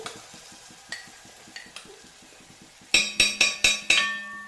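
Ginger, garlic and green chili paste goes into a frying pan and is stirred, giving soft scraping stirs with a faint sizzle, then a run of five sharp metallic clinks of the spoon against the pan near the end.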